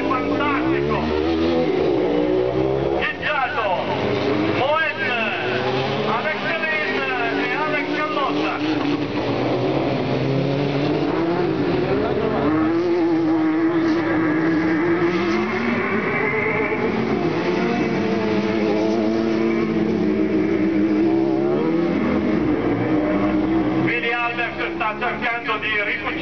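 Loud, continuous racing engine roar with rising and falling pitch as race cars speed past during a Division 3 final, under an excited Italian commentator's voice throughout.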